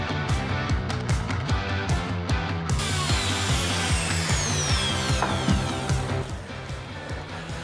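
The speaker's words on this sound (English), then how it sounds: "It's a drywall cutout saw" Drywall cutout saw cutting around an electrical outlet, a loud buzzing power-tool whine with rapid rhythmic chatter, running continuously before easing slightly at the end.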